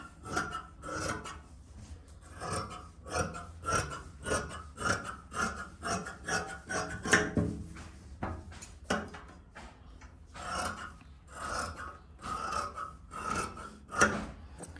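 Kurti fabric being cut while tailoring, heard as repeated rhythmic snipping and rasping strokes, close and fairly loud with brief gaps between runs.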